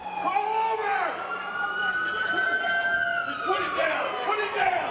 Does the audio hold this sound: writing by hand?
no